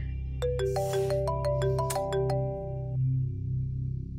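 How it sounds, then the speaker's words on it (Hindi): A mobile phone ringtone plays a bright, rising electronic melody of quick plucked notes for about three seconds, then stops over a low indoor hum. "मम्मी के भी फोन आ रहे हैं"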